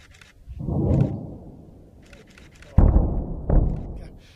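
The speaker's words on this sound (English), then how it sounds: "it was a long time before the explosion got here" Explosive demolition of a decommissioning power station's northern boilers: a distant low rumbling blast swells and fades, then two heavy booming thuds strike in quick succession, the second slightly softer, with no voices.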